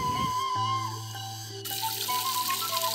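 Water pours steadily from a spout at a spring in Citalaga, a continuous close splashing stream with a tonal ringing layer and no voices.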